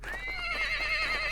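Cold, unhappy horses whinny in the Vintage Story video game, a single drawn-out neigh with wavering harmonics lasting over a second, close and clear with no talk.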